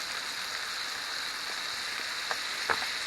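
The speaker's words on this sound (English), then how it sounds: "So I just reshelled them, and I just put some butter in the same pan" Shrimp frying in butter in a pan, a steady close hiss of sizzling that fills the whole stretch, with a couple of faint pops near the end.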